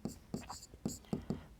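Pen or chalk scratching out a maths probability solution for a Class 10 lesson, five or six short writing strokes in an irregular rhythm, fairly close and quiet, with no talk.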